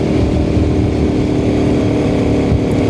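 A Honda C90 motorcycle fitted with a Lifan engine runs loud and close, with a steady, throaty single-cylinder drone and no speech.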